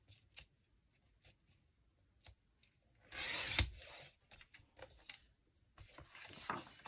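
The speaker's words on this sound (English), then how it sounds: "I'm just going to use my cutter and cut the white off" A paper trimmer slices the white border off a piece of card, heard as quiet scrapes and clicks followed by a longer, louder rasping cut and some shorter slides, all close by and with no voices.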